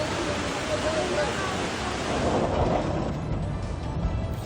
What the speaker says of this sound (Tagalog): Malakas din ang agos ng baha sa Purok 5 sa Barangay Sevilla.